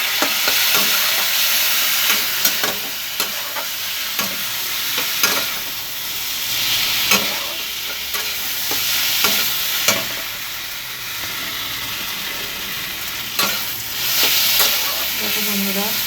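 Potatoes fry in a pan with cumin and turmeric, a steady close sizzle broken by repeated scraping stirs every second or two, with no talk over it.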